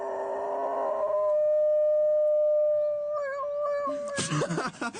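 A golden retriever in Japan imitating a police siren gives a long, steady howl holding one rising-and-falling siren-like tone, wavering near the end before a burst of louder, choppier sound.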